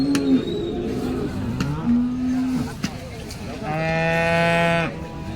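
A cow at a cattle market moos loudly and close by in several drawn-out calls, the last long and strained, over a steady background of market noise.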